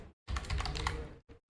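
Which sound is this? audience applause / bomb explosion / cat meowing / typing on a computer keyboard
typing on a computer keyboard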